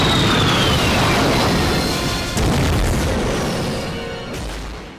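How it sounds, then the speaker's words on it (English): A towering explosion engulfs the Antarctic base in the Resident Evil: Code Veronica video game, a loud, sustained roaring boom with rumbling low end and a second burst midway, fading slowly, with no speech. "the Antarctic base erupts into a towering explosion"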